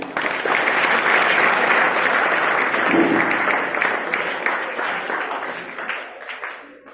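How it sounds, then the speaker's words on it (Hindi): Steady applause from a class of schoolchildren welcoming a fire officer, a dense wash of clapping that holds evenly for several seconds before fading out at the end. "Sir Vijendra Kumar Jhanjharpur fire officer, इनका तालियों से स्वागत करिए।"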